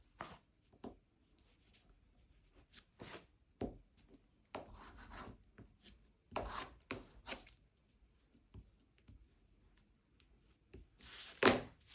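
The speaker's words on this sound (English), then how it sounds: "Rubbing down with your bone folder." A bone folder is rubbed over cloth pulled tight around a bookbinding board, giving faint, scattered scraping strokes with quiet pauses between them and one louder swipe near the end.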